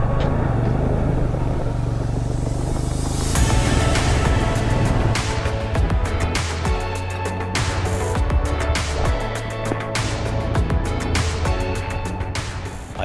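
Motorbike crossing a rocky river section of a backcountry track in New Zealand, its engine steady and close throughout, mixed with broadband splashing and rough, churning noise.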